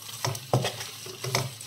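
Onion masala paste dropped into a hot pan for prawn gongura curry, giving a few close sizzling bursts and scraping stirs over a steady frying hiss.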